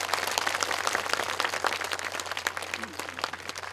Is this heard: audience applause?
yes